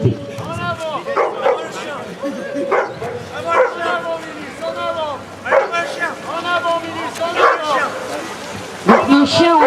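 A black 18-month-old female sea rescue dog barks in repeated loud, close bursts beside the water, with wind buffeting the microphone and a boat nearby.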